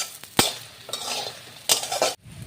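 Neem leaves frying in a pan are stirred with a metal spatula, giving soft sizzling broken by several sharp scraping and clinking strokes against the pan, close and fairly quiet.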